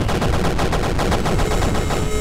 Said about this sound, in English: Revolver.